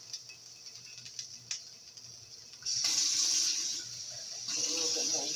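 Tap water runs into a skillet during casserole prep with potatoes, a low faint trickle at first, then a louder steady hissing pour for the last half, briefly easing before swelling again.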